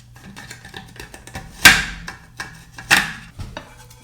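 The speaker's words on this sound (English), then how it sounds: "Some Roma tomatoes or plum tomatoes. Just gonna slice these really quickly." A knife slicing Roma tomatoes on a board, with two sharp loud cutting thumps and several lighter taps in an uneven rhythm, close up and without speech.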